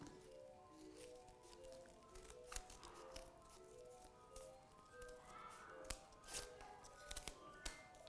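Scissors snip through paper while a paper snowflake is cut out, a run of soft, irregular crisp cuts continuing steadily under faint background music, with no one talking.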